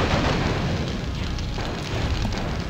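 A mech blows up in the MechCommander Gold video game, a dense burst of explosion and fiery crackle that rolls on loudly for a few seconds with no talk over it.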